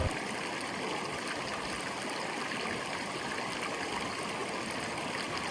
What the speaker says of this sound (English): The creek is right there.